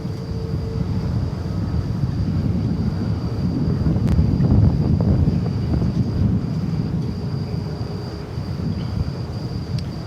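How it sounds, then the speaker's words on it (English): A Qantas airliner on Flight 8 at night at DFW Airport gives off a continuous low, rumbling roar from a distance, swelling slightly midway and then easing off, with wind buffeting the microphone. "we're also going to be treated to Qantas Flight 8 going back to Sydney"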